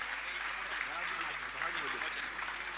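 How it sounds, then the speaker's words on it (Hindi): Audience applause at a Jain religious discourse with a monk, a steady, dense wash of clapping that runs through the whole stretch, with faint voices mixed in. "आपकी तालियों का सम्मान चाहूंगा, बजाइए ताली"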